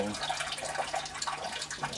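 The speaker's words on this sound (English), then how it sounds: "water from the pump will go up into the grow bed" Water from a very small, inexpensive power head pump in a home aquaponics kit splashes and trickles steadily into the grow bed, a continuous close, moderately faint running-water sound.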